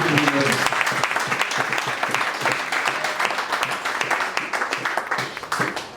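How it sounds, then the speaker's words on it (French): An assembled audience at a civil society gathering gives loud, sustained applause, thick overlapping claps with a voice faintly audible beneath the crowd. "Applaudissements"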